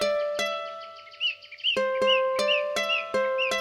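Chirping birds in a storybook wheat field setting, bright repeated tweets over sustained musical tones with sharp rhythmic plucked accents, clear and up front with no talking.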